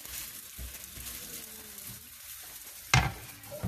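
Msemen flatbread cooks in an oiled frying pan with a soft, steady sizzle, a few light scrapes or taps and one sharper clatter near the end, no one speaking.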